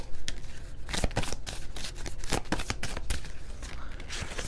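Oracle cards shuffled by hand in a steady run of crisp riffling bursts and soft slaps, close and fairly loud, with no talking.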